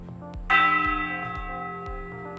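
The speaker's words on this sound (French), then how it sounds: "la plus ancienne cloche de Navarre que vous pouvez faire sonner vous-même" The oldest church bell of Navarre rings once loudly and close, its bright strike decaying slowly into a long resonant hum, while a regular low thudding pulse repeats underneath.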